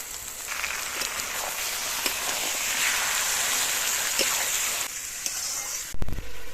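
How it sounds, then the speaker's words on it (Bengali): Marinated mutton goes into a hot pan of cooked-down masala and fries with a steady, close hissing sizzle, ending with a few brief clatters, and no voices. "এবার এখানে ম্যারিনেট করা মটনটা দিয়ে দেবো"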